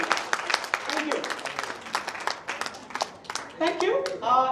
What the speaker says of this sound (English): A big round of applause to these wonderful gentlemen.